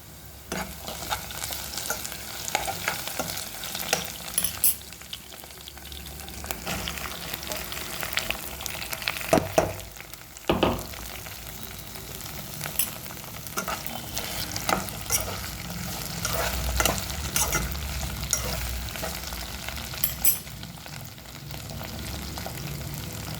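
Sliced okra (ladies' finger) sizzles and crackles steadily in a hot frying pan for a home-style tamarind stew, with intermittent stirring scrapes and clatters, close and fairly quiet, no talking.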